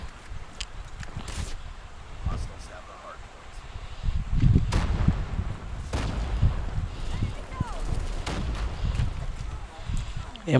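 Sniper rifle gunfire in the mobile shooter Call of Duty Mobile, several sharp booming shots scattered among rumbling game noise, with a person talking over much of it.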